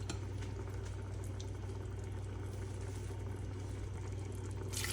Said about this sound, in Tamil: அதில் 3 கப் அளவு தண்ணி சேர்க்குறேன்